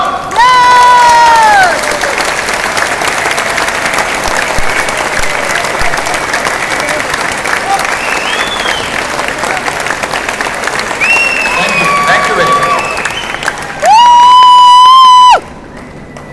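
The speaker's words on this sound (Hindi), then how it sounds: "ताली बजानी है सबको।" An indoor audience at a motivational event claps and cheers for a long stretch, loud and sustained, with a few shouts rising over it; a voice speaks briefly near the end.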